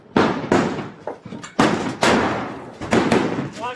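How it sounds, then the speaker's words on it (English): Police officers throw diversionary devices (bangers), producing a rapid series of six or seven sharp, loud booming blasts that echo and overlap, each decaying quickly. "the officers behind them are throwing bangers or diversionary devices"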